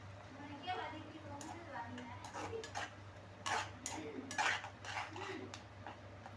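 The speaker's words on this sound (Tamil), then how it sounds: "இப்போ கொஞ்சம் மஞ்சத்தூள் போட்டு வதக்கிக்கலாம்" Onion and ground tomato paste with turmeric are sautéed in a pan for eggplant kuzhambu, with soft scraping and intermittent spoon clinks under a steady hum. A person talks over the cooking.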